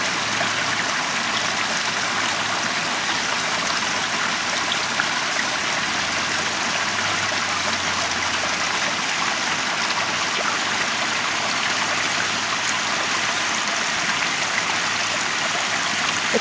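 A waterfall pours into a narrow pond at Kaydon Falls in Stockton, California, making a constant, close, broadband rushing roar that holds evenly throughout, with no talking.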